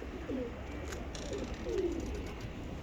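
Soft, low coos of tumbler pigeons repeat a few times over a steady outdoor background hiss, fairly faint and unhurried.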